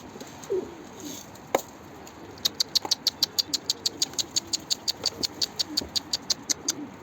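A white-tailed stray pigeon near a coop gives a run of evenly spaced, sharp repeated calls, about twenty in quick steady rhythm, close and fairly clear over quiet background, with a few softer coos earlier.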